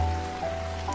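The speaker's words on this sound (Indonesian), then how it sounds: "Hujan semakin deras, angin berdesir kencang, dan petir menyambar." Heavy storm rain pours in a steady, dense hiss for about a second, with a low, constant hum and faint tones running underneath.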